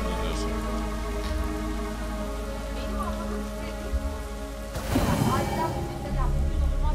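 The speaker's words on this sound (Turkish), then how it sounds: "Hani yağmur var." Steady rain hissing down in Kena: Bridge of Spirits, a continuous even wash of drops with a brief louder gust near the end, under a layer of tonal game music.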